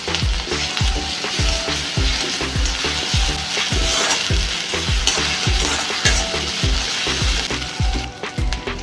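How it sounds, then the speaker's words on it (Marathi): Onion with ginger garlic paste fries in a hot pan for a vegetable dish, a steady loud sizzle with rhythmic scraping thumps as a spoon stirs it over and over, close up and with no talk. "हे पण चांगलं परतून घ्यायचं आहे."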